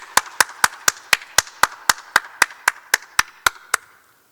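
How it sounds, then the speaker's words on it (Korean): A congregation at a Sunday youth worship service claps in unison, with about fifteen crisp, evenly spaced claps that keep a steady beat and gradually soften toward the end. "하나님께 영광의 박수 올려드리겠습니다"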